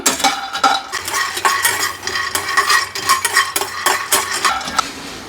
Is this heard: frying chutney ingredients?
yes